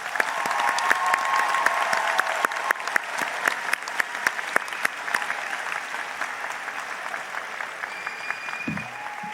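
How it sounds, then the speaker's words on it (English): A graduation ceremony audience for a college class of 2020 gives a sustained round of applause, many hands clapping in a dense patter that thins slowly and stays moderately loud throughout. "One more round of applause."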